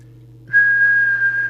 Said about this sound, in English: So I'll just do a quick whistle test.